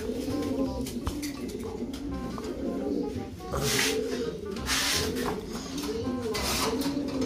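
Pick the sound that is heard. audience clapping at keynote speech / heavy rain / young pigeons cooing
young pigeons cooing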